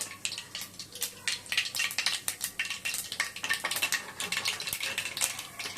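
Onion-tomato paste being stirred into hot tempering oil with popped mustard seeds, a quick run of close scraping and clinking spoon strokes over a light sizzle, no voices.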